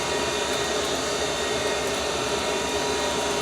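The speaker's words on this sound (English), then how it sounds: "the stone walks back and forth across the valve face without going off of the face while it's grinding" A valve grinding machine runs its stone across a valve face, giving a steady, loud, unbroken whirring hiss with no pauses.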